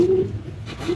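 A homing pigeon coos softly and close by, a low throaty warble repeated twice over a faint background hum.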